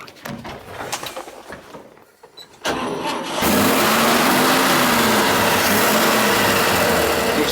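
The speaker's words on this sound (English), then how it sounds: "It even has the original key, which we're going to start her up right now." A 1955 Chevrolet 3100 pickup farm truck, a barn find with its original key, cranks briefly and then catches, settling into a loud, steady running idle close by after some quieter handling noises.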